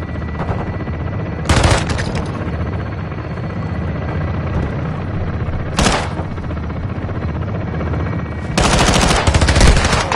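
Belt-fed machine gun in the shooter game Call of Duty MWII pours out continuous rapid fire, loud and near, with harsher bursts swelling three times over a steady droning engine-like roar.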